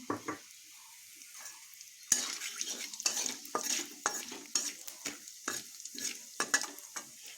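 Whole spices crackle and sizzle in hot oil left over from frying pointed gourd, a steady hiss with a burst of popping partway through, plus repeated stirring clinks and scrapes of a utensil against the pan.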